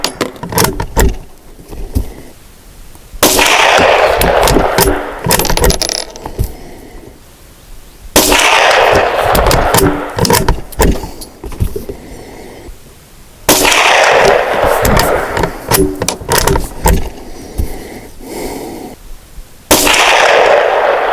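Old-lot CCI Stinger hyper-velocity .22 rounds fired from a classic rifle, four loud sharp cracks spaced several seconds apart, each trailing a short outdoor echo.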